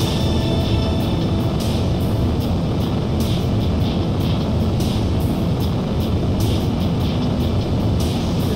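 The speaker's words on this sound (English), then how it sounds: "A single fighter has yet to be sighted, but jet noise can be heard." Jet fighter engine noise in the video game Ace Combat 4: a loud, steady roaring rush of engine noise held throughout, broad and unbroken, with faint rhythmic ticks in the high range.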